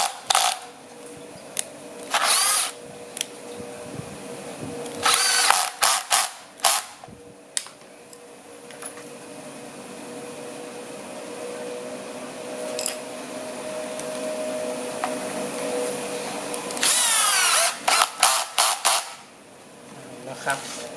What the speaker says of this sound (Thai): ใช้ตะปูเกียวแบบนี้นะครับยิงเข้าไปได้เลยกับไม้ตัวนี้นะไม้นี้มันนิ่มอยู่แล้ว